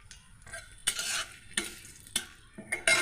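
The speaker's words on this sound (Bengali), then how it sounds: "তারপর কুচিয়ে রাখা পেঁয়াজটা আমি তেলের ভিতরে দিয়ে দেব" Chopped onion goes into oil that is only slightly hot for a Bengali chicken kosha, giving a soft sizzle cut by three or four scraping bursts of stirring against the pan.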